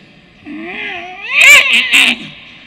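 A cat meows in a long, drawn-out call with wavering pitch, rising into a louder, strained caterwaul near the middle before fading, alone and fairly close.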